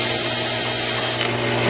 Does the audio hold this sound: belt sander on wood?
yes